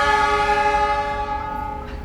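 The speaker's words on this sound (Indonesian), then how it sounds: "Tuh kan, klakson 206 aneh, unik tuh" Horn of a CC206 locomotive departing on the Pandalungan line, one sustained loud blast with strong harmonic tones that fades slightly toward the end, no talk.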